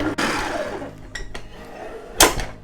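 Mixer whirring through a large batch of black buttercream, a running motor hum broken by clinks and knocks of the beaters against the bowl, close and fairly loud.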